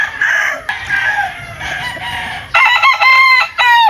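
A hatch gamefowl rooster crows loudly and close by. Clucking fowl sounds come first, then repeated crows with harmonic tones in the second half.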